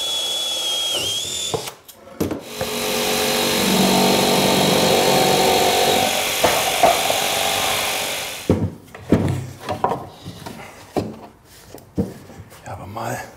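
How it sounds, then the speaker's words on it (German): A jigsaw buzzes steadily for several seconds as it cuts freehand through wood for a subwoofer enclosure, then stops, followed by scattered knocks and handling noises. "Und das alles mit der Stichsäge, frei Schnauze."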